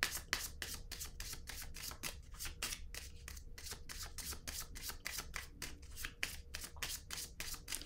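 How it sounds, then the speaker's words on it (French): Tarot cards being shuffled and drawn from the deck, a close, quiet, steady run of crisp riffling flicks repeating throughout. "J'aimerais juste avoir une carte sur ce paquet-là."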